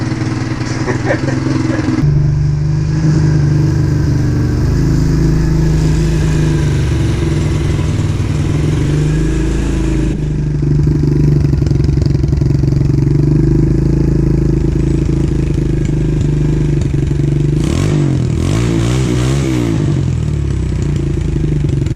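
A stock 125 motorcycle engine revs on an XR, a steady mid-pitched drone with rising and falling sweeps in RPM, loud and close throughout.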